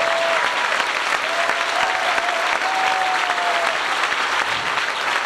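A church congregation at a Pentecostal retreat bursts into loud, sustained applause, dense clapping that fills the room throughout, with a faint held musical tone running underneath.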